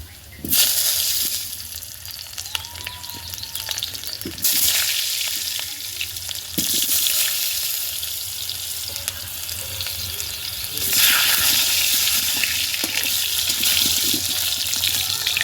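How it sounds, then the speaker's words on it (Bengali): Potatoes frying in very hot oil in a wok, a loud rushing sizzle that surges in waves as pieces drop in and are turned, with occasional scrapes and clatter, no talk. "এবার আলুগুলো এই যে কড়াই তেল দিয়ে দিয়েছি, আলুগুলো ভেজে নেব।"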